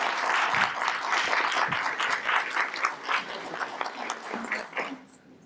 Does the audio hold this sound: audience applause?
yes